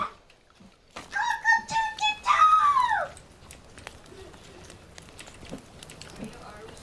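Rooster crowing in the survival video game The Forest, a loud harmonic crow near the middle that sweeps upward and then falls, followed by quieter game ambience.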